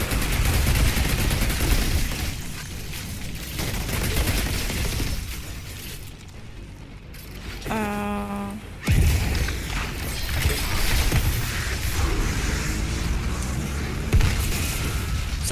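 Grenade explosions and gunfire in the Outriders game demo, dense rattling shots and booming blasts with a short lull midway, then renewed bursts of combat noise.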